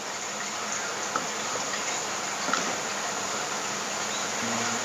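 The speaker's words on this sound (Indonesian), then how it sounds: "Sekarang kita pakai jangkrik guys, ini beli jangkriknya." Steady, high-pitched chirring of crickets in an aviary fills the background, with a few faint clicks and rustles on top, no talking.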